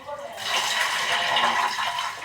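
Soaked rice pours into a pot in a continuous rushing, watery stream that starts after a brief pause and holds steady for about two seconds, close by.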